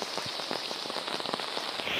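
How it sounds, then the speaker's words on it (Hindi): Heavy torrential rain pours down on a farm field, a dense close hiss of countless drops with sharper pattering hits scattered throughout, steady and loud with no voices. "आप लोग बारिश देख सकते हैं, बहुत ही तगड़ी मसलाधार बारिश हो रही है"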